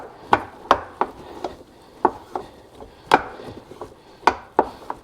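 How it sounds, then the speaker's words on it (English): A spoon stirs flour into rendered Italian sausage fat in a soup pot, with a rhythm of crisp, uneven knocks and scrapes against the pot and no talking. "We'll get the flour in first, get it all stirred in"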